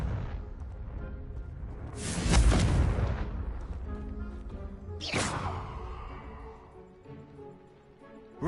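Two booming Confringo blasting-curse explosions in Hogwarts Legacy, each a loud burst with a whooshing tail that fades into a low rumble, with no speech.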